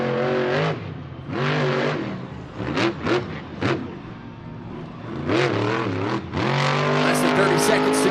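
A monster truck engine roars and revs repeatedly during a Monster Jam freestyle run in a stadium, its pitch swooping up and down as it swings around, loud and close, with an announcer talking over it.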